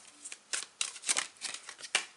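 Crisp, rapid flutters of tarot cards being shuffled, a series of short riffling bursts close by with no talk.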